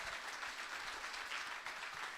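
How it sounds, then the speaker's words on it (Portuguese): A church congregation at a Sunday service applauding the children, with a faint, distant wash of steady clapping from many hands, brief and even. "Vamos glorificar a Deus com a salva de palmas para essas crianças, irmãos."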